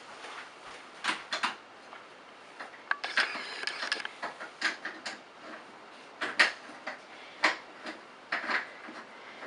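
An old doorknob is taken off a door with a series of quiet, scattered metallic clicks, taps and rattles of loosened parts. The sounds are close by and irregular, with short gaps between them.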